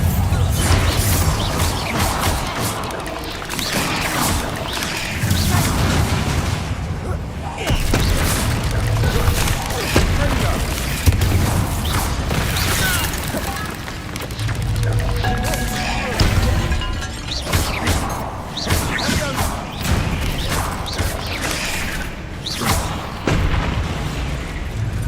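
Bombarda blasting spells burst one after another in the video game Hogwarts Legacy: loud, booming explosions with crashing debris, dense and nearly continuous across the stretch amid busy game sound.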